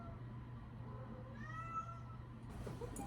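A black cat gives a soft, drawn-out meow, close but faint over a low steady hum, with a brief rustle at the end.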